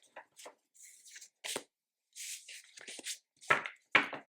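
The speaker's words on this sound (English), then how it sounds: "just going through the cards, just shuffling them and looking at them" A deck of tarot cards being shuffled and handled, with papery riffles, slides and soft slaps in irregular bursts, close up and moderately loud, no speech.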